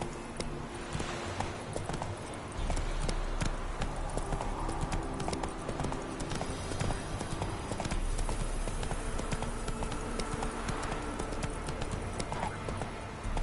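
Hooves of Roach, the horse in the video game The Witcher 3, clip-clop steadily over ground amid game ambience, a continuous rhythmic trot at moderate volume.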